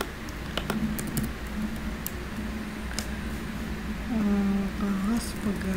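Steady, close keyboard clicks patter on as someone types a URL on a computer keyboard, with someone speaking over the typing.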